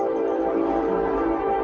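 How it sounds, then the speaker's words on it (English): A train horn blares loud and steady from an approaching train nearing a town with two crossing gates, sustained tones layered over low rumble with no talk. "I heard that train whistle."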